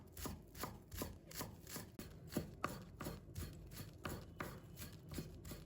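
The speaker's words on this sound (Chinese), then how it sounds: "一把小葱，把它切成葱花" A handful of spring onions being chopped into small pieces with a knife on a board, with steady, rapid rhythmic taps close by and no talking.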